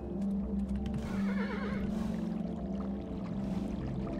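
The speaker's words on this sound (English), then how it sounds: "Slowest horse in all the fucking land!" A horse whinnies in the side-scrolling strategy game Kingdom, a wavering neigh that rises and falls over a steady low musical drone and background game ambience, with no talking.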